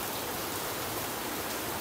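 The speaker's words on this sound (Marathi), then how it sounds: "अचानक हा पाऊस" Sudden heavy rain after a windy, dusty spell pours down in a dense, even roar, loud and close, with no gaps and no voices.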